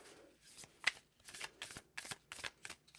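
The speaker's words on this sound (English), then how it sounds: "I am just going to pull a few more cards." Tarot cards are shuffled and drawn in quiet, close riffling bursts with crisp flicks and slaps of the deck, faint and intermittent, with no speech.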